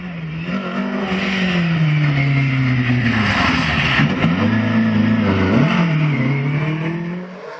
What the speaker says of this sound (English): The historic lead would still belong to the Sunbeam of John Kirkpatrick and Martin Quine as they work their way through the tight stage here in Ramsey.